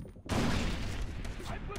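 A grenade detonates in the shooter game Far Cry 3: after a short lull comes a sudden loud blast, and its rumbling roar carries on and slowly thins out.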